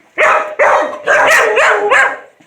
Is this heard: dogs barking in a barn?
yes